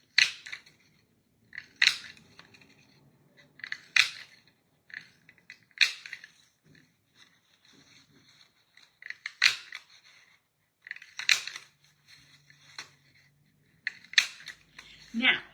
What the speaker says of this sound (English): I'm just going to punch as much as I can out